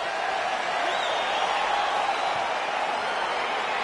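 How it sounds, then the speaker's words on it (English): Arena crowd in the UFC 4 video game roaring steadily at a light heavyweight bout as the fight begins, a dense continuous wash of cheering at moderate level. "crowd getting excited as this fight gets underway"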